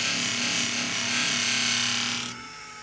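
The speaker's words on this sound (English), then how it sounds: "Here's the polishing. And the blue compound really puts a nice polish on it." Pair of hair shears held against a spinning polishing wheel loaded with blue compound, a steady loud abrasive whirring hum that drops off abruptly near the end as the blade is pulled away.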